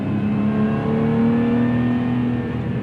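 Brief, loud in-cabin engine note from a Lotus Emira, revs swelling slightly then easing as it holds a steady pull, with no voices.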